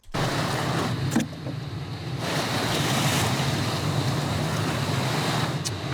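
Surf breaks and washes steadily on an island shore as the tide comes in, a loud continuous roar mixed with wind buffeting the microphone.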